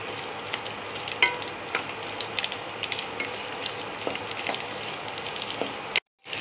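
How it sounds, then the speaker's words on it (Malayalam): Onions sizzling in hot oil in a pan for capsicum masala curry, a steady crackling fry with scattered pops and clicks, continuous until a brief cut near the end. "എണ്ണ ചൂടായി വരുമ്പോൾ ഈ ഇളക്കി വെച്ചിരിക്കുന്ന സവാള നമുക്ക് അതിലോട്ട് ഇട്ട് കൊടുക്കാം."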